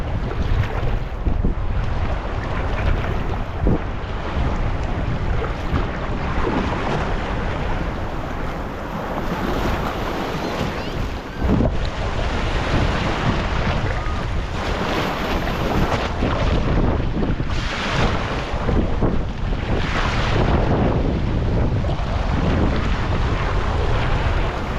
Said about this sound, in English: I am paddling right into the teeth of this wind and these waves